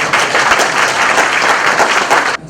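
Loud, close applause from delegates at a union convention, a dense burst of many hands clapping that stops abruptly at the end.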